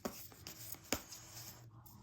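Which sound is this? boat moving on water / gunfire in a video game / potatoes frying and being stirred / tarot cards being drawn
tarot cards being drawn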